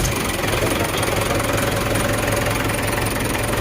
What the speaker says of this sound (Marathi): ट्रॅक्टर चालू करा